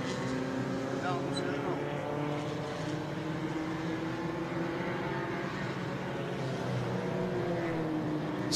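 Classic race cars lapping a circuit during a race make a continuous, loud engine drone with shifting pitch that fills the whole stretch, and a voice may be heard faintly underneath.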